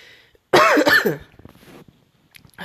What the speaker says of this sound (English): I had this cough for a while.